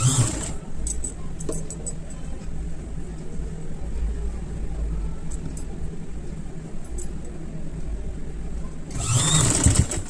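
Sewing machine stitching a frill onto a baby frock, a steady close mechanical whir running continuously for several seconds, with brief handling clatter at the start and end.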